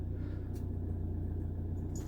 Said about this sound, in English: when we turn on the engine